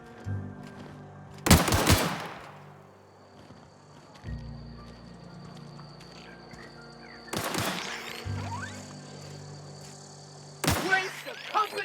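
Gunshots in the video game The Outer Worlds crack out in three separate sharp bursts spread across the span, loud against a low, droning background with scattered game effects.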